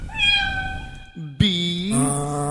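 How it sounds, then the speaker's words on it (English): A cat meows twice, close and clear, with a short thump between the calls; the meows are drawn out and somewhat tonal, the second one rising and wavering. "cat"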